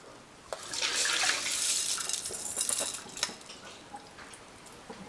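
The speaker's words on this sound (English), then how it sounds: "Then we will drain." Soaked red beans for hopia are drained in a kitchen: a rush of pouring water for a couple of seconds, then a few light clinks of bowl and utensils, with no talking.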